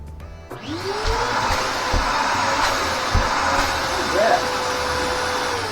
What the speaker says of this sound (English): Real good suction, even if the hose isn't that long.